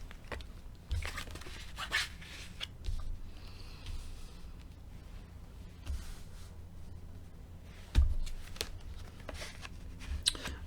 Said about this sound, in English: I had that card jump out when I was shuffling